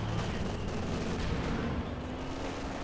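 Gunfire crackles in the World War II strategy game Company of Heroes 2, dense overlapping rifle and machine-gun shots forming a continuous, loud battle din with no pauses.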